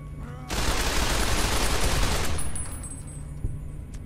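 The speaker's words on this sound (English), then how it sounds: "That was not me firing, that was the game firing." A dense fusillade of automatic gunfire in the Fallout video game erupts loudly for about two seconds, then trails into a reverberant decay with a faint later shot.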